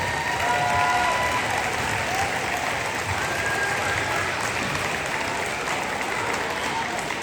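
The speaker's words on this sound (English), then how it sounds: "Let's give them a big round of applause." At a school Christmas program for a 4th grade choir and music club, a large audience claps continuously in a thick, even roar of applause. Faint voices mix in underneath.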